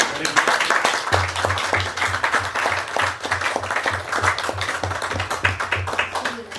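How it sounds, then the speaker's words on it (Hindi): Audience claps heartily at a Hindi cultural gathering, with broadband clapping throughout and a steady pulsing low rhythmic beat underneath, sounding near and full. "और एक बार जोरदार तालियां।"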